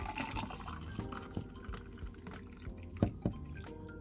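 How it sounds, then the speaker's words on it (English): Juice trickles and splashes into a glass, faint and close, with a few brief louder splashes near the end. "And let's pour in this one."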